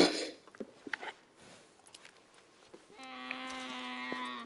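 In Red Dead Redemption, scattered footsteps and soft thuds give way to a single sheep's long, nasal bleat, fairly close and clear, holding for over a second near the end.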